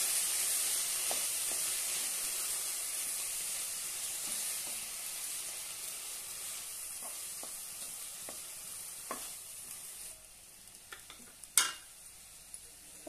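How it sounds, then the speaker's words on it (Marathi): Chopped spring onion greens saute in a pan for a gram-flour onion-greens bhaji, with a soft, steady hiss and light stirring taps. Near the end the sizzle thins and a few sharper clinks of utensil on pan stand out. "यामध्ये कांद्याची पात कट केलेली ती घालूया। छानपैकी परतून घेऊया।"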